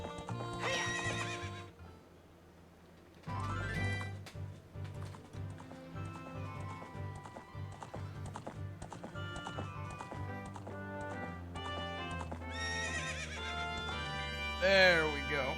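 A horse in The Legend of Zelda: Ocarina of Time neighs loudly at the start and again near the end, with game music and clip-clopping hooves in between as it leaps a ranch fence.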